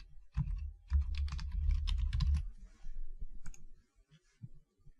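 An email address is typed on a computer keyboard in a fast run of close, crisp key clicks with heavy thumps, then a few slower scattered taps toward the end.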